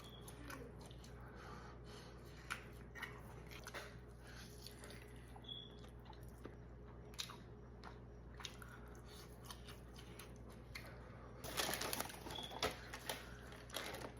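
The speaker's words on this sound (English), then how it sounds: "Chewing's kind of hard. I haven't done that in a minute." Someone chewing a mouthful of chicken and salad, with faint, close, irregular wet crunches and clicks over a low steady hum that go on for many seconds, briefly busier near the end, with no talking.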